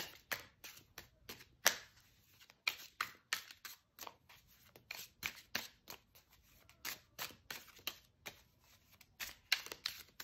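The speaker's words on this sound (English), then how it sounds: "All right, 2 more shuffles." Tarot card deck being shuffled by hand, quick papery riffles and snaps coming in irregular bursts, close and fairly quiet, with no talking.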